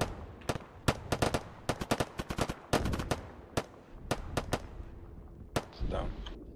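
Incoming gunshots: a rapid series of sharp, loud cracks arrives in irregular clusters, some spaced and some in quick bursts, thinning out toward the end while a voice is faintly heard.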